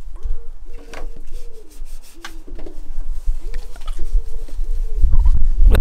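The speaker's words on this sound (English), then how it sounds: "I'm going to give the swing arm, especially the swing arm, just a little rub down." Short repeated rubbing strokes on a Triumph Explorer motorcycle swing arm during a wash, close and rhythmic, with birds cooing in the background and a louder rubbing burst at the end.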